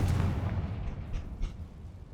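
A Confringo fire spell in the Hogwarts Legacy video game detonates with a deep, booming blast and a rumbling tail that fades over about two seconds.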